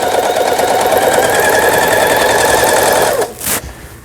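A Lion Indigo sewing machine runs steadily with a continuous whirring motor hum and needle rhythm for about three seconds, then stops abruptly, leaving a brief softer mechanical sound.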